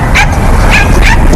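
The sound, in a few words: dog barking at a dog park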